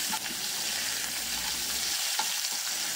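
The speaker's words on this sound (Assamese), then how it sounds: "এতিয়া পিঁয়াজখিনি ভালদৰে ভাজি ল'ম" Steady oily sizzling of onions frying in a pan until lightly browned, with soft scraping stirs now and then, fairly close and continuous throughout.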